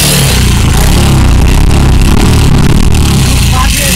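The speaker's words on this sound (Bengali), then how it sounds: "যে আমি বাইকটার সাউন্ড শুনাই আগে।" A used motorcycle's engine runs loud and close in a Bangshal, Dhaka second-hand bike market, a steady throbbing drone with some rising revs and clattery mechanical noise throughout, before any servicing work is done.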